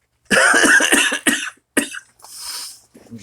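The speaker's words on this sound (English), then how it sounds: "I got that kennel cough." A loud, harsh coughing fit up close, several hacking bursts in a row followed by a couple of raspy breaths.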